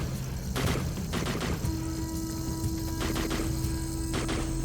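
Rapid bursts of gunfire from the game RimWorld crack repeatedly over a constant electronic hum, with rattling volleys and a few heavier thumps, no talking.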